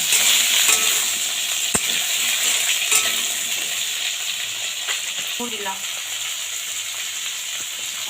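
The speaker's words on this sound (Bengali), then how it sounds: "একটু ভাজা করে নেব" Carrot and potato frying in a pan for millet khichuri, a steady close sizzle with occasional scraping stirs and utensil clinks, a brief spoken word near the start.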